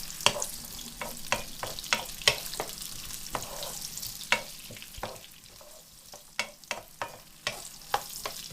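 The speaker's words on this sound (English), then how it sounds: "So now the onions are nicely coated in the oil and they're cooking" Onions fry in oil over maximum heat, with a steady sizzle broken by regular sharp scrapes and taps as they are stirred in the pan, close and fairly loud, with no talking.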